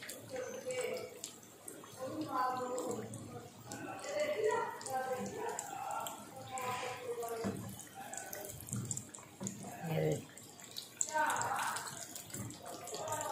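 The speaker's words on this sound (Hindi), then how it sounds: "अब दूसरी साइड फ्राई हो रही है" Samosas deep frying in hot oil, turned to cook the second side until golden brown, give a steady bubbling sizzle that runs underneath nearly continuous talking from a nearby voice.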